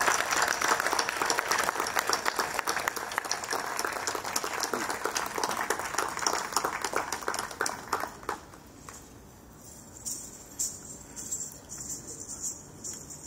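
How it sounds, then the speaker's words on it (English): Audience applause for performing artists at an Independence Day celebration, loud dense clapping that thins out and fades after several seconds, leaving a few scattered claps over a quiet background. "Ladies and gentlemen, please give a huge round of applause for all our wonderful artists."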